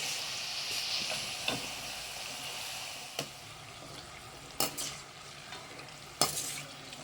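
Wheat flour snacks deep-fry in oil over a medium flame, making a soft continuous bubbling sizzle broken by a few sharper crackles and spits.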